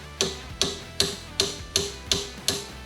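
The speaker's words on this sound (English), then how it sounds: "I'm just using my body hammer." Sharp metallic body hammer taps on car metal strike in an even rhythm, about seven blows, each ringing briefly before the next, close and loud with no talking.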